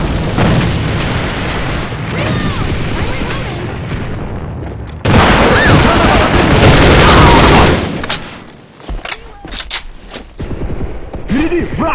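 Gunfire and a grenade blast in the online shooter AVA, with an FG-42 rifle in play: dense, continuous rattling shots, a louder burst of fire and an explosion in the middle, then scattered sharp cracks trailing off.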